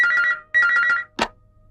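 A telephone rings in two trilling electronic bursts, loud and close, followed by a short click as the handset is picked up.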